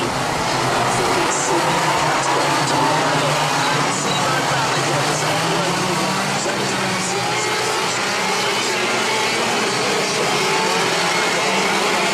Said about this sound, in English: Engines fire up then, drivers make their way onto the track.